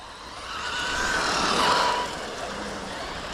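Traxxas Slash Raptor R RC car with a 3670 2400kv motor on 4S, spinning its tires: a loud, high whining motor and tire scrub rising to a peak and then easing off into a steady lower whir.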